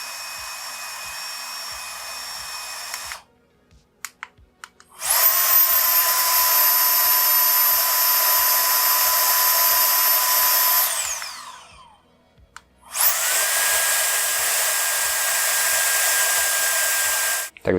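A multi-purpose cleaning and grill-lighting blower run at its maximum setting gives a loud, steady high-pitched whine and rush in two long bursts, with short quiet gaps and brief start-ups between, and no talking.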